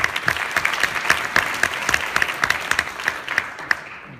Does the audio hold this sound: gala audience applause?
yes